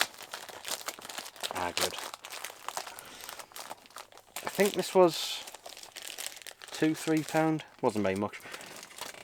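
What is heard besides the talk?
plastic mailing bag crinkling while unboxing Music Magpie parcel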